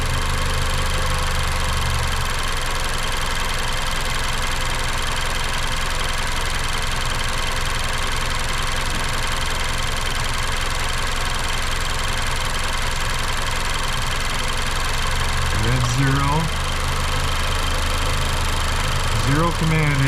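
A 2019 Mazda CX-5 engine runs at a high idle with a stuck valve, droning steady and continuous up close, with faint squeaky chirps near the end.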